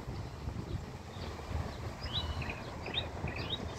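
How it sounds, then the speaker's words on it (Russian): A nightingale sings outdoors near Odintsovo in the Moscow region, its short chirping phrases faint and distant over steady wind and low rumbling background noise. "как красиво поют птички?"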